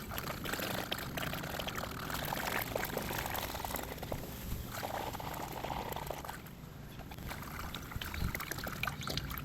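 Antifreeze and distilled water poured into the cooling system of a Jeep XJ under revival, a continuous gurgling, glugging pour with sloshing trickles, steady and close throughout.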